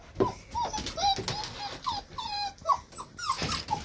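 Seven-to-eight-week-old Springer Spaniel puppies whining and growling close by, a busy overlapping run of high whimpers, yips and short low grumbles.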